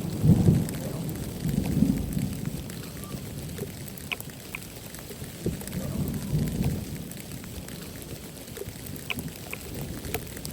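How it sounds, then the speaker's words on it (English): A thunderstorm passes over a forest trail along the St Joe River in Idaho, with low rolling thunder rumbling in swells beneath a steady hiss of rain that continues throughout. "Just as I linked up with Jason and Jordan, the heart of the storm caught us, and we found some cover to ride it out in."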